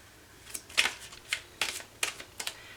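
Tarot cards being shuffled in several quick riffling bursts separated by short pauses, crisp and close.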